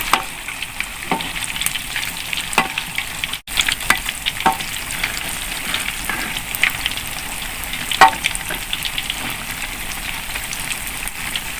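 Battered milk tofu deep fries in hot oil with a loud, continuous sizzle and crackle, plus scattered sharper pops and occasional stirring or turning clatters, and no talking.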